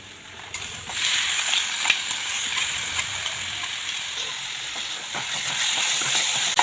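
Blended tomato purée hits a hot pan and sizzles steadily, a broad hissing that swells after the first half second and holds fairly loud to the end, with faint clicks and clatter within, no talking.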